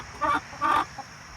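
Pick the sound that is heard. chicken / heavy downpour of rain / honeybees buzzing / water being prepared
chicken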